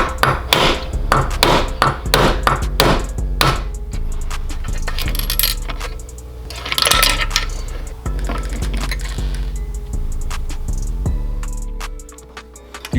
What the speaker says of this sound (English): Take a punch and a hammer and tap the governor gear out of the block.